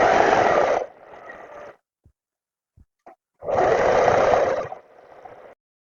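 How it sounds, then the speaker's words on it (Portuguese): Sewing machine running a straight seam along a wide trouser hem, two loud bursts of steady whirring stitching separated by a pause with small clicks and handling noises, no talk. "agora é só passar a costura reta."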